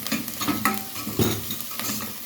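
Garlic drops into a pan with softened onion and sizzles, with quick scraping stirs and clinks of a utensil against the pan up close.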